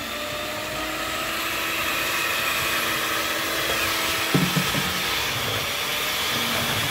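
A blender whirs steadily while mixing cake batter with flour for an upside-down pineapple cake, a constant close motor drone lasting the whole stretch with a brief knock partway through.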